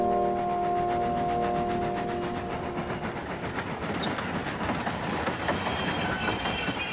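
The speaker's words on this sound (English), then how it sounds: "Toby had stopped at Ellsbridge with his train." A steam train rumbles along with rapid rhythmic clicking from the wheels and a steady mechanical drone, loud and close, with no voices.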